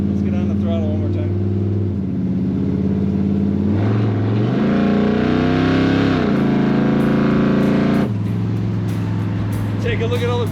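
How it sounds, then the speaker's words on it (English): A 1955 Chevrolet Bel Air engine revving hard, loud and close. Its rumble climbs in pitch through a sustained rev, then falls back to a steady idle. "Let's get on the throttle one more time."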